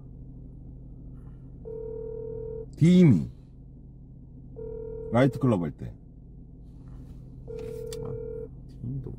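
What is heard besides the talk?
phone call ringing unanswered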